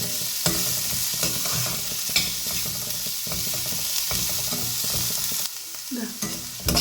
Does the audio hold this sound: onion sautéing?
yes